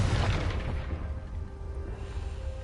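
In Hogwarts Legacy, a Confringo blasting spell bursts with a heavy low boom right at the start. A rumbling decay follows and gradually thins out, with no talking.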